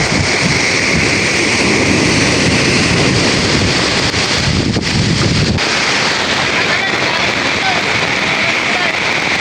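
Loud, constant roar of crashing surf from a typhoon, with heavy wind buffeting the microphone throughout.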